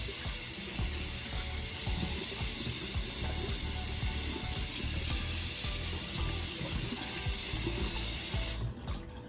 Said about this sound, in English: I'm just gonna put more hot water in it